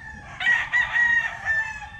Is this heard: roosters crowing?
yes